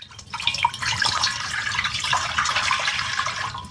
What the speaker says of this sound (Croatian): Natrist vodu.